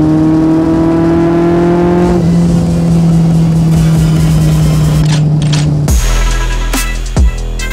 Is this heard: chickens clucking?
no